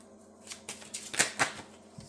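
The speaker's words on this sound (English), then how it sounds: "If I can shuffle, that would be wonderful." A deck of expedition game cards is shuffled at a tabletop, a few quiet riffling bursts and soft clicks close by in an otherwise calm room.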